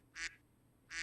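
A duck quacks twice, two short nasal quacks about three-quarters of a second apart, close and clear over faint background hum.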